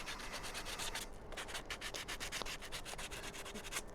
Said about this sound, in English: Then I'll just take some sandpaper.